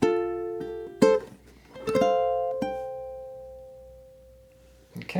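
A ukulele plays the closing bar of a song in a country style, a few plucked chords and notes ringing out cleanly and decaying slowly, with a final strum at the end.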